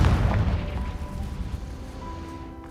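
The Confringo spell goes off in the video game Hogwarts Legacy, a loud booming explosive burst at the start that rumbles and fades over a few seconds, with a faint tonal ring lingering.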